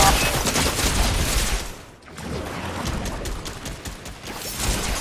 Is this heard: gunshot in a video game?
yes